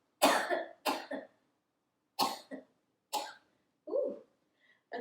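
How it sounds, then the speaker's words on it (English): Someone coughs in several separate bursts, close and fairly loud, with short quiet pauses between them and a softer throat sound at the end. "I think I am going to cough for another moment"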